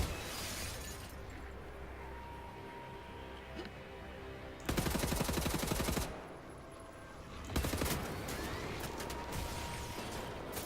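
Assault rifle fire in Wolfenstein: The New Order comes in two loud automatic bursts of roughly a second each, set against a steady backdrop of game ambience and scattered clatter.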